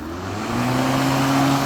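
A Litheli 18-inch 2x20V electric lawn mower runs in high gear, a loud, steady motor whir with a rising hum as the blade spins up and then holds speed.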